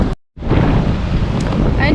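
Strong sea waves mixed with heavy wind buffeting the microphone, a loud continuous roar briefly cut by a moment of silence near the start.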